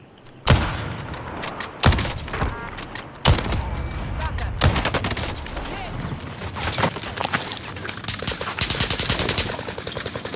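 Kar98 sniper rifle shots in a video game, three loud sharp cracks about a second apart followed by dense rapid automatic gunfire and explosions continuing throughout.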